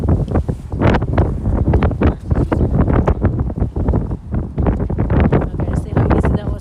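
Strong wind buffets the microphone outdoors on a snowy day, loud low rumbling gusts pulsing irregularly throughout, with people talking underneath.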